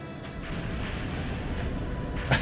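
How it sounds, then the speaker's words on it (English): Harpoon cannon in the video game Skies of Arcadia Legends, a loud sustained booming rumble with a sharp burst near the end and no voices. "Harpoon cannon, fire!"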